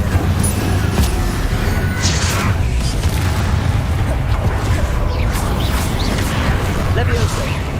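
Fire spells crackle and burst amid a rapid chain of other casting effects in the Hogwarts video game, with repeated whooshes, pops and booms layered into a busy, loud stream of combat sound, no talking.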